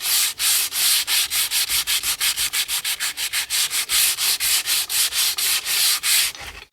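Coarse 60-grit sandpaper rubbed back and forth along a seasoned wooden ax handle, a loud, steady series of about thirty rhythmic rasping strokes, close up with no talking.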